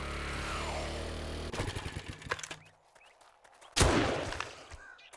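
A steady mechanical whir gives way to rapid clattering, then a single sharp rifle blast rings out and fades, loud and close, in the video game 7 Days To Die.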